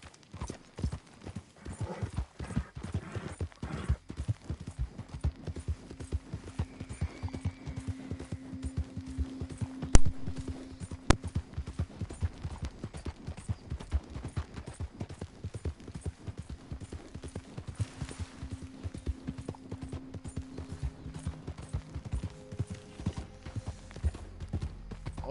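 Hooves clip-clop in a quick, continuous galloping rhythm as a horse runs in Red Dead Redemption 2, with a faint whinny-like tone at moments and a brief louder knock midway.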